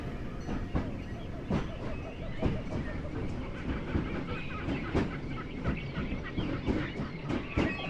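A genuine steam-powered train of the Disneyland Railroad runs through the park, with a steady chugging rumble and repeated sharp clanks and clicks of the rolling cars, heard from onboard at moderate level.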